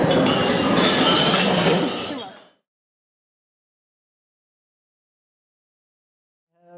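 Dense, bright clinking of many glasses during a wedding toast, a loud burst that lasts about two seconds, then silence.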